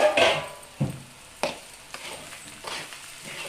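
Onions and spices frying and being stirred in a pan for a fish pittu dish, with bursts of sizzle and spoon scrapes against a steady low crackle, close and moderately loud.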